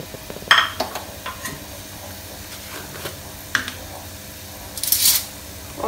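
Cumin and whole coriander seeds dropped into hot oil, a faint steady sizzle with occasional clinks and scrapes of a utensil against the pan, close by.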